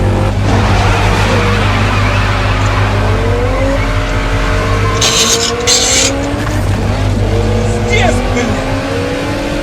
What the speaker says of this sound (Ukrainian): Турбінка дує? Да, робить хорошо. Влад, коробка лучше, чем у тебя щелкає.